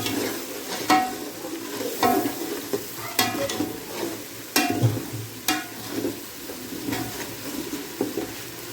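A spoonful of whole garam masala with cloves, black pepper, cumin and cinnamon frying in hot oil, with a steady crackling sizzle and recurring sharp spoon clinks and stirring scrapes, close by, no talk.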